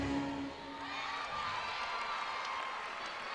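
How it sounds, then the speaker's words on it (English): A crowd at a college women's gymnastics meet cheering after a floor routine, a steady wash of shouts, whoops and applause from a distance, with a commentator talking under it. "Looks like the crowd is excited about that one."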